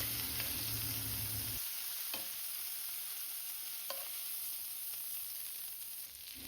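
Thin brisket slices sizzle on a Korean BBQ grill, a loud crackling hiss that cuts off sharply after about a second and a half, followed by a few light clicks of tongs flipping the meat over a soft background hiss.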